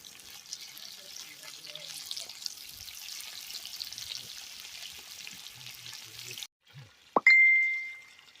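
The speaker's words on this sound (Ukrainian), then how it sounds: "Жаримо, жаримо, бараболі," Soft, steady sizzling of potatoes and meat frying in a pan, then it cuts out and a bright ding rings out.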